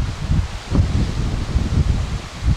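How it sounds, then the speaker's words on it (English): Gusty wind buffets the microphone and rustles nearby leaves, rising and falling in short bursts over a few seconds. "real windy today, a lot colder"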